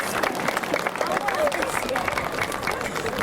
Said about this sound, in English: Big round of applause for Aled and for Biscuit.